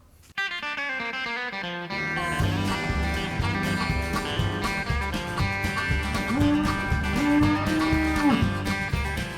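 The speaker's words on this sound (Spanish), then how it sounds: "Las vacas, que nada tienen que ver con el páramo, cada vez son más y más." Cows on the páramo low a few times, the drawn-out calls rising and falling over a steady, droning musical background, with no voices.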